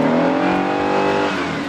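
A 1970 Dodge Super Bee muscle car with a HEMI V8 revs loudly and steadily up close, its dense harmonic engine roar holding for under two seconds with no talk.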